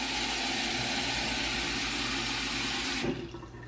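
Hot tap water gushes steadily into a bucket, a loud, close rushing that runs on evenly before cutting off near the end.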